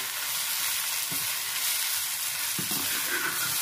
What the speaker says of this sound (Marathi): फक्त मसाले व्यवस्थित मिक्स होईपर्यंत कांदा परतून घेऊया